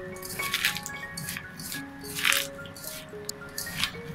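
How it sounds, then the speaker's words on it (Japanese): Cucumber being rubbed and kneaded with salt by hand, giving repeated close wet squishing and squelching bursts with faint dripping, alone without talk. "なんかちょっと塩で揉んでます"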